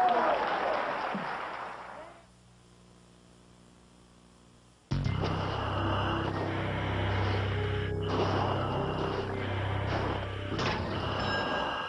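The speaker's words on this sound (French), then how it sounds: "Un applaudissement." A noisy opening drops into near silence, then an audience bursts into sustained applause that holds steady and fairly loud to the end, with some voices mixed in.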